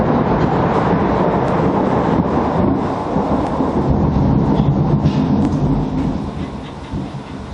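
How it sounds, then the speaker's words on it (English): Thunder from a thunderstorm, a loud continuous rumbling roar with dense low-frequency energy that eases slightly toward the end. "all right, thunderstorm."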